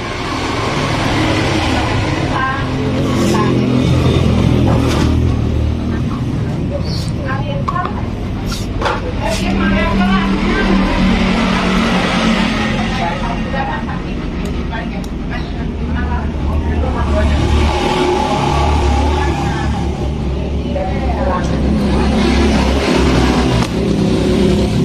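An early Yamaha Jupiter Z motorcycle engine with worn left and right crankshaft bearings runs with a rough, noisy mechanical rumble at low revs. It holds steady and fairly loud throughout, with people talking over it.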